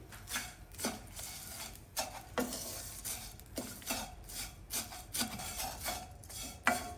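Vermicelli roasting in a pan with broken cashews and almonds over a slow flame, a soft dry sizzle with repeated scraping stir strokes at a steady rhythm, close and fairly quiet, no voices.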